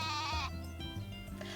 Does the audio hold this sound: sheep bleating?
yes